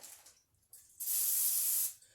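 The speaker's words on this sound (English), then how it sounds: "I'm going to spray the outside of this plastic bag" A few short hissing bursts of cooking spray onto the outside of a plastic bag, followed by one longer, louder spray close up, in a quiet room.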